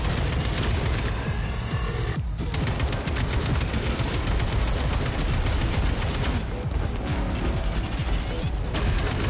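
Rapid automatic AK rifle fire in Atomic Heart rattles almost nonstop, loud and close, broken by a couple of brief pauses between long sustained bursts.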